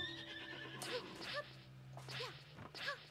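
A horse in the video game Princess Peach Showtime neighs and whinnies several times, wavering calls over game music and a low hum, moderately quiet.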